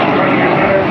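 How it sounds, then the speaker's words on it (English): A BAC Strikemaster jet trainer roars past at Eastbourne Airshow 2018, its loud, broad engine noise filling a brief moment at steady intensity. "The aircraft itself using up a little more space than a modern jet would do with that design"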